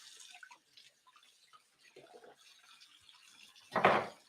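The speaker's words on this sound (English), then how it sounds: "Now I'm going to rinse my hands. And I'm going to rinse the knife." A knife being rinsed under a running kitchen tap after cutting beef heart, with soft trickling water throughout and a louder splashing gush near the end.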